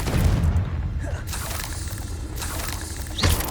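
Confringo fire spell blasts in the Hogwarts Legacy video game, with heavy booming bursts at the start and again near the end over a low rumbling game background.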